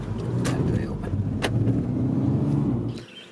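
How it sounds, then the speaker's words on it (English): An MK7 Volkswagen GTI with failing fuel injectors stutters and bucks hard, refusing to start, its engine noise a rough uneven rumble with sharp clicks, close by and continuous until cutting out. "it's stuttering, it's bucking really hard, and it really just won't start."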